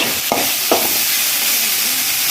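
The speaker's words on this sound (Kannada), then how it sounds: "ಟೊಮೆಟೊ ಸ್ಮೂತ್ ಆಗುವವರೆಗೆ ಟೊಮೆಟೊ ಸ್ಮೂತ್ ಆಗುವವರೆಗೂ ಮಿಕ್ಸ್" Tomatoes sizzle loudly in a hot pan while being stirred for a chicken fry, a steady close frying hiss broken by a few soft scraping strokes of the spoon.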